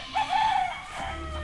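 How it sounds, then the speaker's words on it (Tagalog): A rooster crows once, close and clear, with a short drawn-out call over faint background noise. "Yung mga chicken natin."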